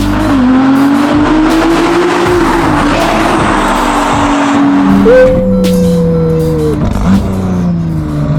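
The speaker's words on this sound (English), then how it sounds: "the most insane thing about this car is of course the exhaust system." A Ferrari 296 GTB V6 sports car with a Novitec exhaust revving loudly and continuously, its exhaust note rising and falling with sharp pitch shifts, close to the listener.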